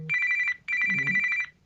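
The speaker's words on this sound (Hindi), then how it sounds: "एक मिनट, जरा से एक आवश्यक फोन आ रहा है।" A telephone rings with an incoming call in two close bursts of electronic trilling, loud and near, with no talking over it.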